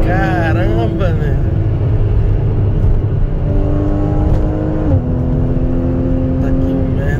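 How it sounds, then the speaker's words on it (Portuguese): Porsche sports car engine revving and accelerating, a loud continuous drone whose pitch climbs and shifts as it picks up speed, filling the whole stretch with no voices on top. "Eu tô no carro de corrida mesmo, bicho"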